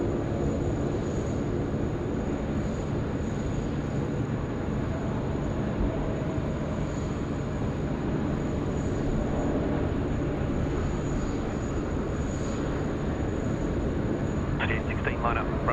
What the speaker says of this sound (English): the 737 service coming in from Melbourne now